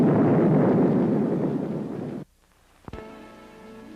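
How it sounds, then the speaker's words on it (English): Underwater nuclear warhead detonation at the burst point: a loud rumbling roar that fades out abruptly, followed by a short sharp thump and a quieter tonal hum. "At the burst point, the warhead is detonated."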